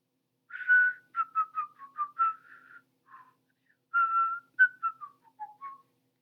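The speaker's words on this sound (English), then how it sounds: "Somebody was whistling the lively tune." A person whistles the lively tune Yankee Doodle: clear, melodic whistled notes in two phrases with a short pause between them, alone and fairly close.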